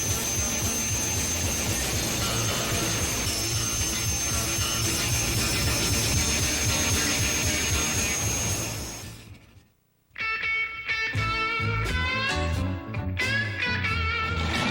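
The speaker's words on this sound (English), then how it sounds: "Jet funny cars, jet dragsters, all coming your way next from the Pro Jet Car Championships" Jet funny cars and jet dragsters thunder at the Pro Jet Car Championships at Raceway Park, Englishtown, New Jersey: a loud, unbroken jet roar for about nine seconds, then a sudden cutoff and a different, more tonal stretch.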